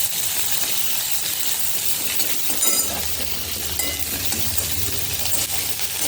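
Chopped onion with a bay leaf frying in hot oil, a steady, close hiss of sizzling with occasional clinks of a utensil against the pan, continuing without pause.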